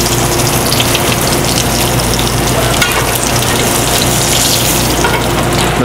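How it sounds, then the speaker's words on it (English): Scallops sizzle loudly in a hot pan as they are basted, a dense continuous crackle and spatter close up with no voices. "We're just going to baste those scallops a little more, and they're ready."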